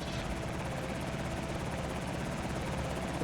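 A helicopter in the video game Project Zomboid passing overhead, a steady rotor drone at moderate distance, even and unbroken with no talk over it.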